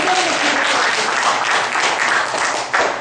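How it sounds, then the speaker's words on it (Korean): Steady applause from a Taekwondo policy forum audience, a dense continuous wash of clapping holding loud and even for about three seconds with a slight swell near the end. "박수 한번 주십시오."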